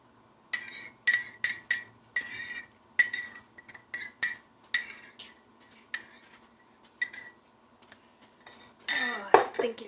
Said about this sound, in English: So I have here a nonstick pan. And I'm going to just add my egg mixture.